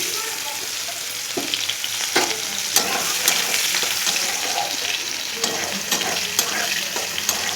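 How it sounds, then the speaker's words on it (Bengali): Sliced onions fry in hot oil with bay leaf and nigella seeds, giving a steady close sizzle broken by sharp scraping clicks as a spatula stirs the pan at irregular intervals. "এবার তেলের মধ্যে আমি পেঁয়াজ দিয়ে দেবো।"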